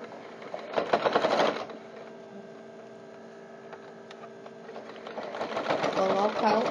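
A sewing machine stitches bias binding onto a pencil case in two loud bursts at the start and end, with a steady low mains hum between them and someone talking over the sewing.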